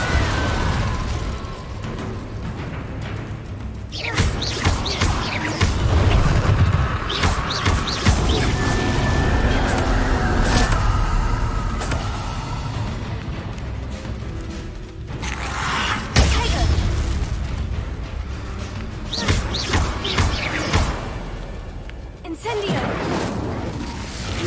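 In the video game Hogwarts Legacy, an Incendio fire spell is cast, sending out bursts and booming whooshes of flame over game sounds, with voices talking in the clip.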